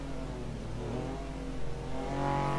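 Kei car lapping Sepang circuit at race pace, its small engine droning steadily with rising harmonics as it climbs toward the end, loud and close with no talk.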